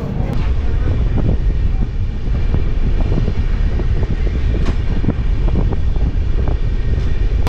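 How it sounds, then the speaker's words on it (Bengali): The Humsafar Express pulls out of Vidisha station with a loud, continuous rumble and a rhythmic clatter of wheels over rail joints, heard from on board. "আমাদের ট্রেন বিদিশা থেকে ছেড়ে দিল"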